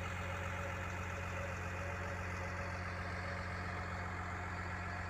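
A John Deere 750J-II bulldozer engine idling, a steady low diesel drone with a constant hum, even and unbroken throughout, no voices.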